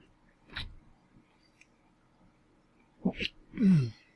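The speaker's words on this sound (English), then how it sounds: "Sorry, sneezing away there." A sneeze caught during a Prey (2017) playthrough, with a faint breathy intake near the start, then a sharp two-part burst and a louder, voiced sneeze at the end, close and clear over quiet game ambience.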